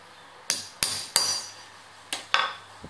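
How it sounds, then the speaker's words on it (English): A hammer strikes a center punch to mark a hole for drilling in a lightsaber shroud: five sharp metallic taps, three in quick succession and then a pause before two more, each ringing briefly, close by. "Okay, so I'm going to punch a hole there because that's where I'm going to drill the hole."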